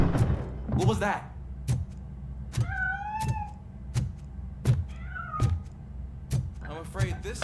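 A cat meows repeatedly in the Robocop Rogue City video game, a few clear nearby mews set against a steady series of heavy thunks.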